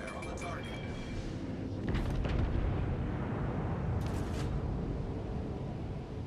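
Warship gunfire and explosions in World of Warships: Legends, a rumbling wash of distant booms and blasts under a steady roar, with a radio-style voice speaking over it.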